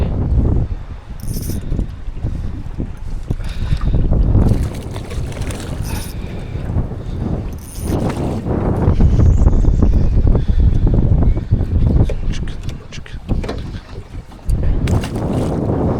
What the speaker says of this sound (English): Even though it's windy as a dog.